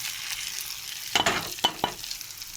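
Frying food seasoned with chilli, turmeric and salt gets stirred, a quiet sizzle punctuated by three or four close scraping strokes of a spatula in the pan, with no talking.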